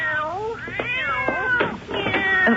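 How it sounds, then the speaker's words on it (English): Several cats meowing and yowling indoors, a rapid run of overlapping rising and falling cries, close and clear. "if you don't mind the cats"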